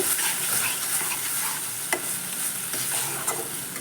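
Egg curry masala with curd and cumin powder is stirred in a pan, giving a continuous soft sizzle with a few sharper scrapes and taps of the spatula near the end.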